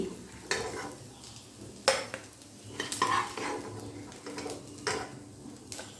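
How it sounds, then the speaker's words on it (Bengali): Fish roe fritters are lifted from hot frying oil, a soft sizzle underneath with several sharp clinks and scrapes of a metal utensil against the pan at irregular intervals. "ভাজাও খুব ভালোভাবে হয়ে গেছে এখন এই বড়াগুলো আমি তুলে নিচ্ছি"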